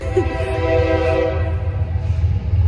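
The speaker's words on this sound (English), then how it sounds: "Train going through town." A train sounds its horn while running through a town in Atlanta, Georgia, a sustained loud blast over steady rumbling rail noise, heard from moderately close with no talk.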